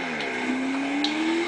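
A fast car in GTA 5 accelerating, its engine note climbing in a steady smooth whine, fairly loud and unbroken, with no voices over it.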